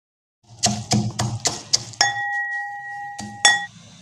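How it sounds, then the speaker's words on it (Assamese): Roasted cumin, coriander and dried chillies are pounded in a mortar. About eight sharp, close strikes land in an uneven rhythm, and one hit leaves a clear ringing tone hanging for over a second. "তাৰপিছত এইখিনি খুন্দনাত গুড়ি কৰি লওঁ।"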